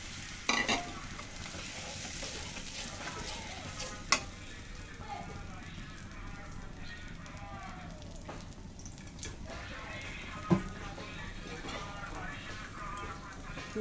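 Spice paste mixed with water sizzles in a hot pan for an egg recipe, a continuous close frying hiss with stirring scrapes and a few sharp knocks of the spoon against the pan.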